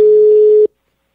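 A single steady electronic telephone tone sounds loudly for about two thirds of a second and then cuts off sharply to silence, as a prank call is placed.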